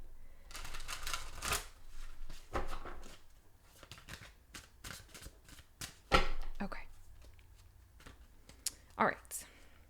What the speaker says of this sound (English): Spirit saying to shuffle one more time.